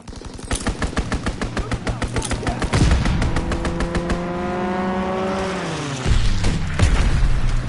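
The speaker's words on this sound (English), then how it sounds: "Enemy strafing run inbound." An enemy aircraft roars overhead on a strafing run in Call of Duty WW2, a fast machine-gun rattle of evenly spaced shots followed by a loud engine sweep that drops in pitch as it passes, then more gunfire.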